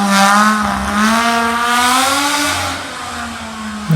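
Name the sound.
6-cylinder engine exhaust through concrete exhaust with wire pipe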